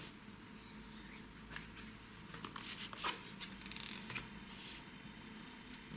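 Tarot cards handled and shuffled for a reading, giving soft papery rustles and light flicks that recur over a steady low background hum, with a few sharper snaps near the middle.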